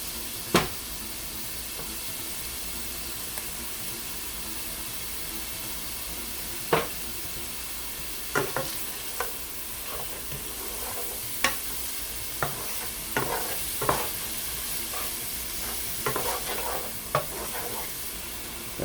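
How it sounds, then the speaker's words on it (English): Chopped onion sautéing in bacon fat in a pan for three-meat chili: a steady close sizzle, broken by scattered sharp scrapes and clacks as the pieces are stirred. "We're gonna let this saute a little bit more"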